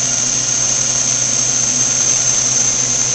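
Cincinnati-Milacron Arrow 1000 CNC vertical machining center spindle turning at 1500 RPM, a steady loud high-pitched whine with a low mechanical hum beneath, unbroken and close.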